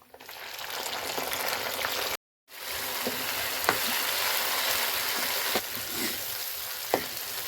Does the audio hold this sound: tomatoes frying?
yes